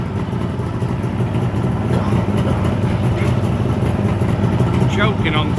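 A Suzuki GT750 two-stroke motorcycle engine runs steadily and loudly, a continuous close-up rumble and clatter during carburettor balancing, with no breaks across the whole stretch.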